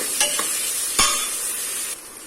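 Meal maker biryani ingredients sauté in a hot pan with a loud, steady sizzle, punctuated by a couple of brief stirring scrapes; close-up, no voices.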